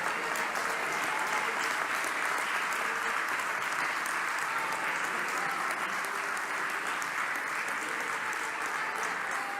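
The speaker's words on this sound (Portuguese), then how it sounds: "Vocês podem aplaudir a Jesus, adoradores?" Worshippers at a church event applaud continuously, a steady, even roar of many hands clapping that fills the whole stretch without pause or speech on top.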